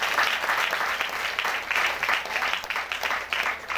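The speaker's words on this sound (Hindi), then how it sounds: "इसलिए जोरदार तालियों से धन्यवाद करती हूँ।" A church congregation breaks into applause, a full, continuous round of clapping from many people in a hall, steady and moderately close, with no voices over it.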